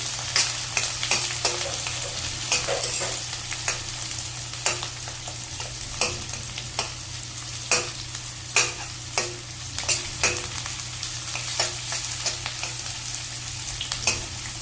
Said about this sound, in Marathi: कांद्यांना छान परतून घेऊया